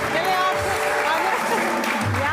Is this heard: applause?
yes